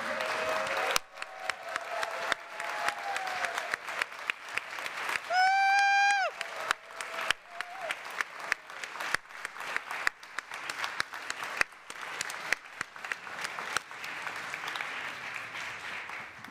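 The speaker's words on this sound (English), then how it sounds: "I'd like to give them a big round of applause and let them know how much we love them" Congregation at a Sunday service clapping steadily for the choir, a dense run of hand claps at moderate distance lasting throughout, with a brief whoop or whistle rising partway through.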